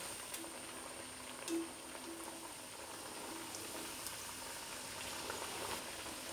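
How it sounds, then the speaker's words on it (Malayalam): Pathiri, a Kerala flatbread, frying in hot coconut oil, giving a faint, steady bubbling sizzle that runs without a break and with no talk. "പത്തിരി വെളിച്ചെണ്ണയിലേക്കിട്ട് നന്നായി ഒന്ന് ചൂടായി വന്ന് കഴിഞ്ഞാൽ മറച്ചിട്ട് കൊടുക്കുക"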